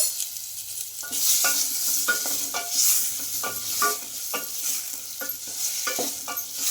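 Boiled potato pieces fry in hot oil while being stirred: a soft bubbling sizzle broken by repeated, irregular scraping strokes close by, with no speech.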